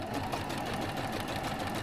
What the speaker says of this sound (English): He's running the sewing machine.